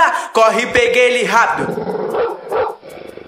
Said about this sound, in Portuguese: Caramba, um cachorro brabo.